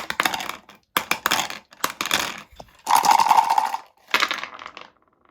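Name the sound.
dice being rolled for tech check in board game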